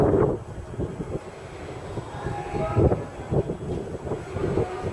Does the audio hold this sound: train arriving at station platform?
yes